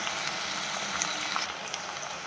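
Green chillies, slit in half, sauté in a pan for prawn thokku, giving a steady, even sizzle and crackle throughout with no talking.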